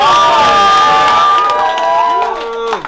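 A rap battle crowd in Vancouver cheers and shouts loudly, with high whoops rising above the roar before it thins out near the end.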